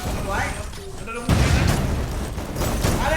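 Deep booming blasts and crackling bursts from a game erupt in a loud, noisy burst, with muffled voices mixed underneath.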